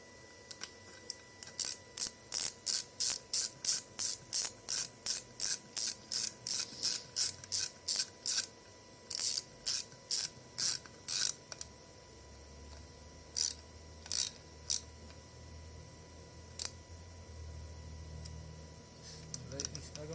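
A socket ratchet tightening clutch bolts on a Japanese dirt bike, in bursts of quick, even clicks, a long steady run then shorter sets separated by pauses, close and crisp.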